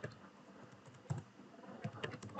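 Quiet typing on a computer keyboard while entering code, a soft irregular run of close key taps with a few louder strokes and no talking.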